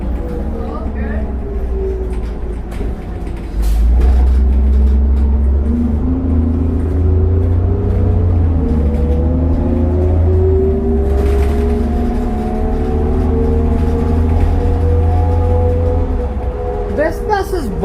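A worn 2001 New Flyer D40LF city transit bus on route 153 roars under acceleration, its deep engine rumble swelling and holding steady for much of the ride with rising and falling whine, loud and close from inside the cabin.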